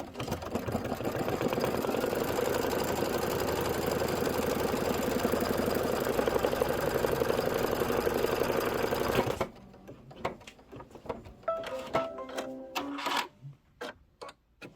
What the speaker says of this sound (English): This is a placement stitch for the book spine